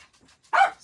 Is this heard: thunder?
no